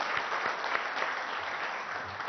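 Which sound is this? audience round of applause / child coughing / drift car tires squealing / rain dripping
audience round of applause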